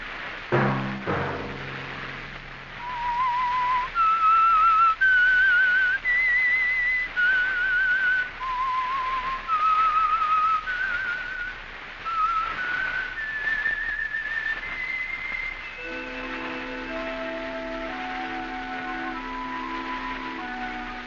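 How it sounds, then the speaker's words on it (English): A clear melodic whistle carries a slow signature tune on its own, with sustained musical notes joining toward the end, from a 1947 radio program. "Let that whistle be your signal for the Signal Oil program, The Whistler"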